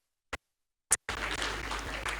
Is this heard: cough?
no